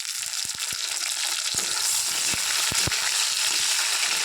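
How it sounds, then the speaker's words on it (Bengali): Continuous sizzling of onion and tomato frying in a pan, with scattered soft clicks and taps of a utensil, no talking. "পেঁয়াজটাকে ভালো করে ভেজে নেবো"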